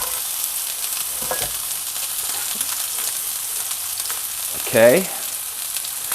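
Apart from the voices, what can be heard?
onions frying in a pan for caramelizing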